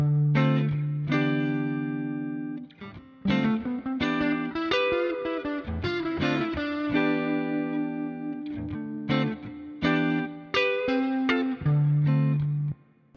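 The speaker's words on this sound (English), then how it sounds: "So I'm having a repeating melody line." Electric guitar with distortion, chorus and reverb effects plays a repeating melody line of plucked notes and held tones in a funky rock song, continuous and up front with no talk.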